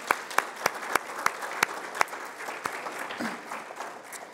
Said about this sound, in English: So, let's begin with an applause for the Passionist and Thomas.